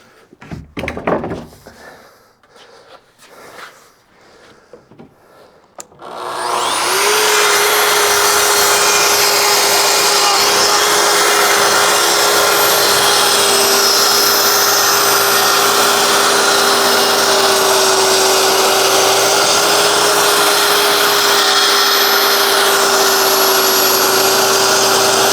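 A power saw cuts drawer boards to width in a woodworking shop. A few light knocks come first, then the loud, steady whining roar of the running blade holds unbroken for about twenty seconds, with no talking.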